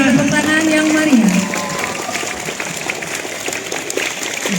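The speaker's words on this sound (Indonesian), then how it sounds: "Mari kita berikan tepuk tangan yang meriah" Applause breaks out at a school ceremony opening National Bible Month, a crowd clapping steadily in a room while a voice speaks over it at the start.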